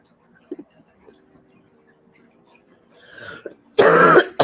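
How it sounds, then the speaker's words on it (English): Several coughs and throat clearings from a person with seasonal allergies, faint and sparse at first, then a loud, harsh burst of coughing close to the microphone near the end. "Pardon my coughing."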